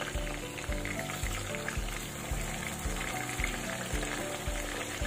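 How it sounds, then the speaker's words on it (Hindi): Fish fries in a pan with a steady, dense sizzle and a faint bubbling crackle running throughout, close and uninterrupted by talk. "करीब 2 मिनट इसको हमें अच्छे से फ्राई करना है फिश को।"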